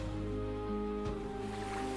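Ocean waves wash onto a sandy beach shore in a steady, continuous surge with a soft swell partway through, layered under sustained background music tones.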